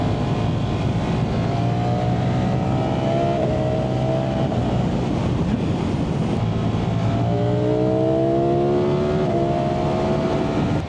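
A 2025 Ducati Streetfighter V4S motorcycle rides along a bumpy road, its engine droning loud and steady with rising pitch sweeps through gear changes, mixed with wind rush.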